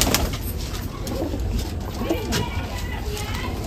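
A Pakistani Kamagar pigeon coos softly at close range, low repeated calls mixed with other birds and background voices.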